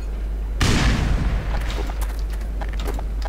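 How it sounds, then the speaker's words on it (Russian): A sudden loud explosion goes off in the Black Mesa shooter, a sharp boom that rumbles and crackles away over about three seconds, heard alone without talk. "Ну, хоть больше взрыва дайте."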